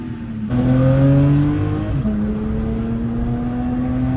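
Porsche GT3 sports car engine revving nearby at a car meet in Batumi, a loud sustained growl that climbs in pitch, drops briefly, then holds a steady high drone.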